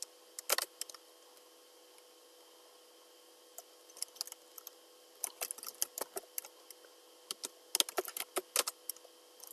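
A git merge command is typed on a computer keyboard in quick, uneven bursts of close, crisp key clicks, with short pauses between clusters over a quiet background hiss.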